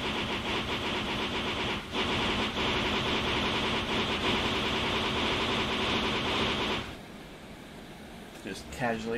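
A vehicle engine in modded Minecraft drones loud and steady with its throttle opened, then drops away abruptly near the end while a voice talks briefly.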